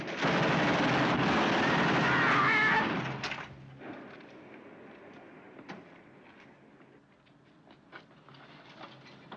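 Gunfire in a 1954 film noir: a dense, loud burst of rapid shots for almost three seconds, then scattered sharp single reports over a quieter rumbling background.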